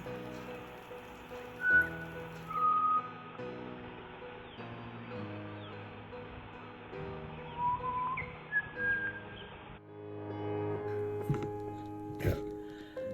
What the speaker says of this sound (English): The pied butcher bird gets a word in.